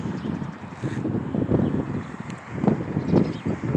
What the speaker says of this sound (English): Wow, it's quite blustery out here.